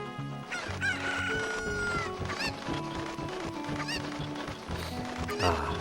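Over game music, a chicken in the video game Ocarina of Time crows and clucks several times, close and clear, with no one talking.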